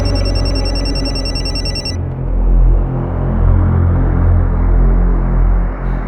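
A mobile phone left behind at home rings in a bright repeating electronic tone for about two seconds, then cuts off, leaving a low rumbling room tone.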